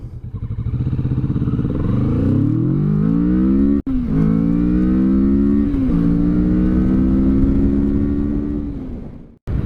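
A Kawasaki Vulcan S motorcycle engine, about 60 horsepower, revs up steadily, its pitch climbing through the gears, loud and close with a brief drop in the middle.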